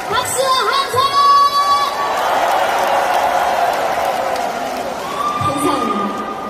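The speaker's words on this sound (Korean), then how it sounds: "자, 한 번 더 박수와 함성." Cheers, whoops and clapping swell from a live concert audience at a Mistrot 2 singer's show, a loud sustained crowd roar with high-pitched shouts rising above it, easing slightly toward the end.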